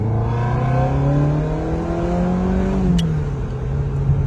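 A Bentley Continental T Le Mans engine pulls loud and close, its deep note rising steadily, then dropping sharply at a gear change with a brief click before settling into a lower drone.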